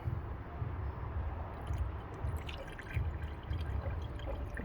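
Antifreeze coolant pours steadily into the cooling system of a 2016 Dodge Caravan 3.6 during a thermostat replacement, a continuous close liquid trickle and splash with faint rhythmic gurgles.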